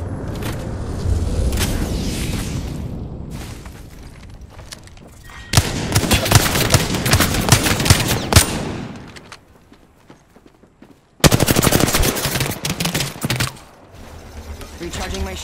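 Gunfire rattles in Apex Legends, with loud bursts of automatic shots and impacts separated by quieter gaps and a voice speaking over the action.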